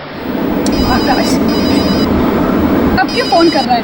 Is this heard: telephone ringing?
yes